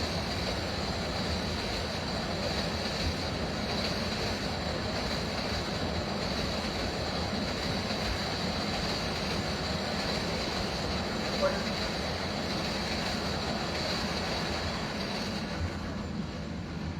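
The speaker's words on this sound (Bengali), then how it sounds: "ট্রেনটা যে গেল" A train rolls by close at hand: a steady, broad rumble with faint wheel clatter runs the whole way through, holding level without any clear rise or fade.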